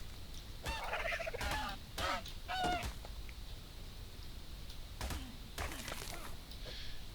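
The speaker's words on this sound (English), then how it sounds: "Here's a dodo bird." Dodo birds in ARK Survival Evolved give several short, honking, gobbling calls in scattered bursts over a low outdoor ambience.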